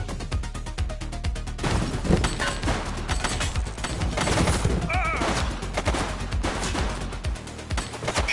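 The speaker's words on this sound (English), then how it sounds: "Shots fired!" Rapid gunfire in a police action game, The Precinct, with dense crackling bursts of shots and crashing impacts running nonstop, loud and close, with voices mixed in.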